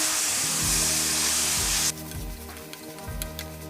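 Half a kilo of chicken pieces hitting a hot pan for pepper chicken chukka, a loud burst of sizzling that drops off sharply midway, then quieter frying with scattered stirring scrapes.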